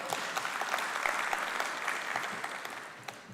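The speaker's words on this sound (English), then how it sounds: "Let's give MEC Pillay a big round hand of applause" Applause from the audience at a KwaZulu-Natal climate change and sustainable development council meeting, moderately loud clapping with sharp individual claps standing out, steady for a few seconds then thinning slightly.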